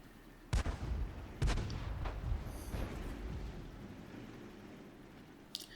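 Artillery guns fire in a tank video game, two heavy booming shots in close succession followed by a rumbling decay, then a few fainter distant thuds and a sharp final crack.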